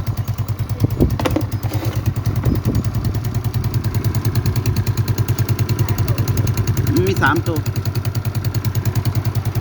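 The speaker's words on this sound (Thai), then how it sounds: "เครื่องยนต์ติดแล้วนะครับ" A motorcycle engine idles with a steady, rapid chugging pulse throughout, close by, while someone speaks briefly over it.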